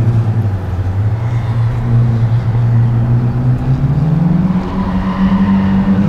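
A Mazda RX-8 or Nissan 200SX S14A Z Edition revs hard with a slipping clutch, its loud, droning engine note climbing and wavering in pitch as the revs flare, steady and close throughout.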